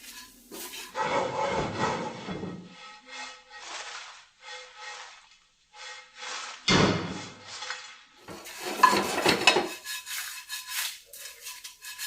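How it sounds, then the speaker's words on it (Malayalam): Grated coconut is stirred as it roasts over a low flame in a pan for hotel-style varutharacha curry paste, giving repeated bursts of scraping and rubbing with quiet pauses between them. "ചെറിയ തീയിൽ ഇങ്ങനെ ഇളക്കി കൊടുത്തോണ്ടിരിക്കണം കേട്ടോ"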